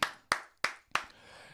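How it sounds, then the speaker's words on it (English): A few people clap four separate times, each sharp burst fading quickly, then a softer wash of light clapping and room noise trails off; fairly close and moderately loud, with no talking. "Keep clapping for your boy, 30 days."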